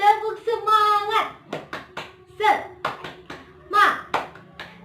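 Children at an online school lesson chant and clap in rhythm to a cheer game, with sharp bursts of hand claps between chanted, sing-song voices.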